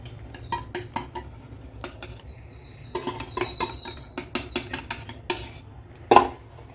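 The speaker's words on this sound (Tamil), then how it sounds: "நம்ம கை விடாத அளவுக்கு கிண்டணும்" Mysore pak batter being stirred in a pan on the stove, a spoon scraping and clinking against the metal in a run of sharp, close, irregular strokes over a low steady background hum.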